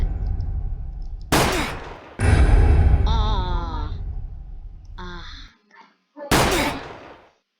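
Gunfire in the Roblox game Breaking Point, with sharp broadband bursts standing out over louder mid-clip sounds and a moaning voice, spaced a few seconds apart.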